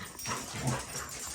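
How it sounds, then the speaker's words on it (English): Several dogs whimper and yip excitedly in a short, busy burst, close by with a noisy, crowded background. "Y'all wanna meet 4 of my dogs?"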